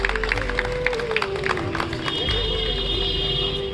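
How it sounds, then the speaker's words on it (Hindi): An audience at a 23 March Shahid Diwas (Martyrs' Day) event claps steadily to welcome a doctor, a dense wash of applause lasting the whole stretch alongside a sustained tone. "तो जोरदार तालियों के साथ स्वागत करें डॉक्टर साहब का।"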